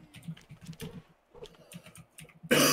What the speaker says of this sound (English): What are you typing?